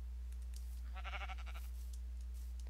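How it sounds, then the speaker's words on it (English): Sheep bleating in a Minecraft-style video game, one short bleat standing alone over a steady low background hum. "There's a lot of sheep over here."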